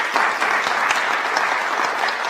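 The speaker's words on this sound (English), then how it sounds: "you can clap now." A large studio audience at a Jamaican election debate breaks into loud, continuous applause, a thick unbroken roar of clapping hands that holds steady throughout.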